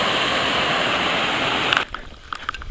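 Steady, full rush of Girl Creek flowing in deep trout country near Loon Lake, loud and continuous, then cutting to quieter outdoor ambience with a few brief clicks.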